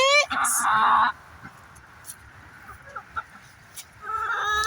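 Backyard chickens cluck and chatter in short bursts at the start and end, with softer scattered clucks and a quiet gap between; a voice speaks briefly among them.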